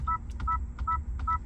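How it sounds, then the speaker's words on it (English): A 2022 Honda Civic EX sounds its cabin chime, a short two-tone electronic beep repeated four times at an even, quick pace over a low engine hum. "The sound is a little bit off. I prefer the older chime"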